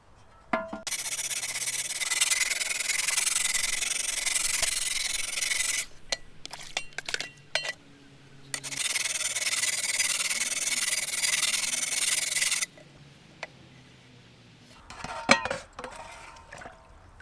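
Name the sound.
filing a garden tool blade to sharpen it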